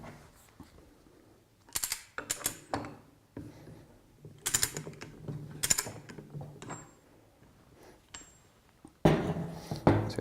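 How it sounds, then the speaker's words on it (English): Metallic ratcheting and clinking as the nut is undone on a Flotronic one-nut pump during maintenance, with bursts of turning clicks and scraping close by, separated by short pauses. "The first item we're going to start with is undoing the one nut."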